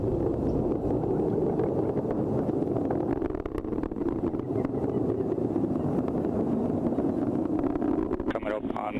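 Atlas V rocket with its RD-180 engine during launch and ascent, a continuous low rumbling roar buffeted by wind, heard from a distance beneath ongoing launch commentary.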